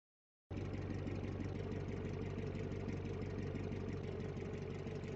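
A car engine idles steadily in the Automation video game, a low even droning rumble that starts abruptly after half a second and holds constant to the end.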